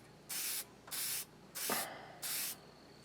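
A spray bottle spritzes four times between layers, each close, crisp hiss lasting about a third of a second with short pauses between, and a small click accompanies one spray.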